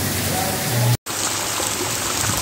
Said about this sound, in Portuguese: iniciando uma chuvazinha